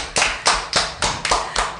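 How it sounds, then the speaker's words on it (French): In a radio studio, a few people clap in slow, separate strokes, about seven sharp close claps spaced evenly with short decays between, fairly loud and alone without talk. "on va encore applaudir ce grand homme"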